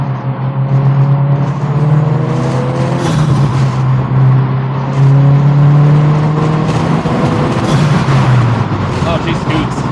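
A Subaru WRX accelerates under throttle, its engine note climbing in repeated rising sweeps through gear changes, steady and loud from inside the car, with road rumble and occasional clunks throughout.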